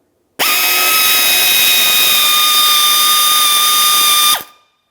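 A power tool on a 2009-2019 Ford Flex front bumper cover whines steadily for about four seconds while backing out a 10mm headed bolt, loud and close, starting and stopping abruptly with no talk.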